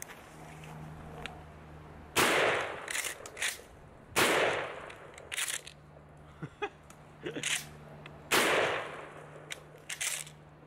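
An old pump-action shotgun fired outdoors, with loud sharp blasts roughly every two seconds, each trailed by racking clatter and a brief decay.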